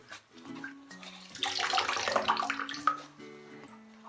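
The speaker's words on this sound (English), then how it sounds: "I just wring them all out one at a time." Wet cloth diapers being wrung out one at a time over bleach water, giving a close, steady splashing and trickling of water that swells and fades across a few seconds.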